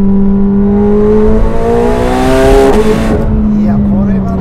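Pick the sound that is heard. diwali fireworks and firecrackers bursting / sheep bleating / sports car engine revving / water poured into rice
sports car engine revving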